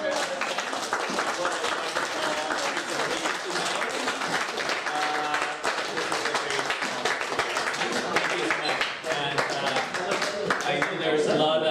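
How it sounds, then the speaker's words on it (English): Audience applause after an HIV treatment update presentation, a long, even burst of many people clapping that stays steady and fairly loud, with faint voices mixed in underneath. "So everyone, we really want to give a big round of applause."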